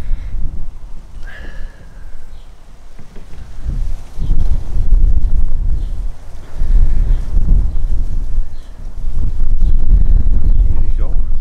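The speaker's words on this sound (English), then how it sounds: "Even though it's blustery, it's a nice warm wind." Blustery, warm wind buffets the microphone outdoors in a garden, a steady broadband rumble that swells and gusts throughout, loud and close, with a voice speaking briefly over it.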